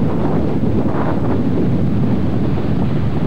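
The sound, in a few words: wind on the shore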